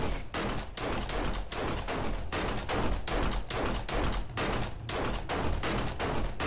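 Sustained rapid gunfire in the survival game 7 Days to Die, a dense, loud string of shots firing in a steady rhythm across the whole stretch with no talking over it.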